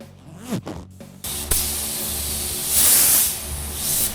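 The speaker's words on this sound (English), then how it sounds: "What I'm doing is blowing a layer of overspray onto the plastic." A paint spray gun hisses steadily, close and loud, after a few brief handling noises, with the spray swelling in bursts and no talking, laying overspray onto plastic.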